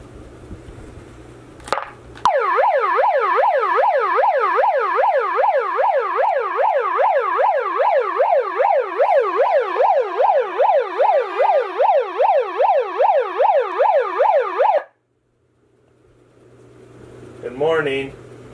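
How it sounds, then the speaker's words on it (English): A loud wailing siren in the video game Outlast cycles rapidly up and down for about twelve seconds, close by, then stops abruptly. "We got a siren."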